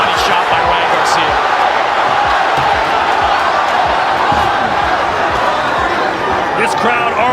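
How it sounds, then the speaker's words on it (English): A boxing arena crowd at the Ryan Garcia versus Oscar Duarte fight roars at full voice, a loud, dense and continuous wall of cheering with commentators talking over it. "This crowd already at full voice."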